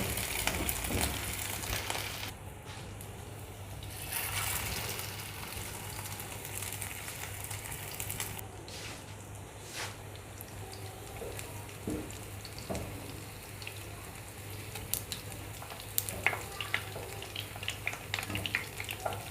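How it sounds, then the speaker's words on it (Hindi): Chapli kebabs fry in hot oil, giving a steady, dense sizzle and crackle that runs the whole time with no talking, punctuated by occasional sharper pops. "चपली कबाब मैंने बना लिए हैं। अब इनको करते हैं हम फ्राई। ऑयल गरम हो चुका है।"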